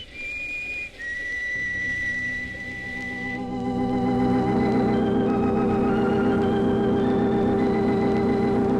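A whistle blown in an old radio drama sounds as a long, clear high tone that lasts several seconds, then gives way to a loud, dense swell of orchestral music beneath it.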